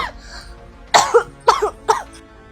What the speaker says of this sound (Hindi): गुड़िया, तुझे इतना खांस क्यों रही है?